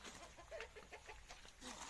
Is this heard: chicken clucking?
yes